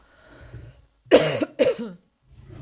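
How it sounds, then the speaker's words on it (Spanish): A woman with a cold coughs in a short fit, two loud harsh bursts close together after a faint murmur, with a little quiet breathing or movement at the end. "Disculpad por el ataque de tos, pero estoy un poco acatarrada"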